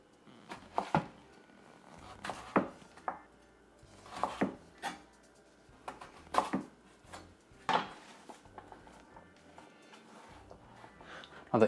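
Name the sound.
knife cutting sweet potato into fries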